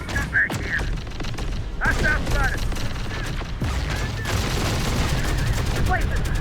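Rapid bursts of gunfire from laser miniguns and other weapons in the video game Terminator Dark Fate: Defiance, a dense, continuous rattle of shots with booms and mechanical clatter throughout.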